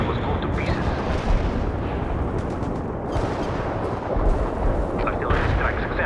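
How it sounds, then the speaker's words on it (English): A heavy artillery barrage in World in Conflict rumbles without a break, deep booms and blasts rolling over one another while radio-style voices talk over the bombardment. "Artillery strike successful."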